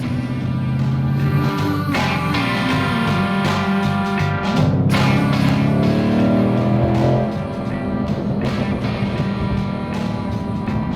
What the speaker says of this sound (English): That was the sound of a level 2 Roush performance pack on a 2020 Mustang GT.